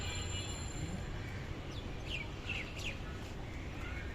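Soft chirps from newly hatched pigeon chicks and adult pigeons sound briefly and faintly over a steady low background rumble, with no talking.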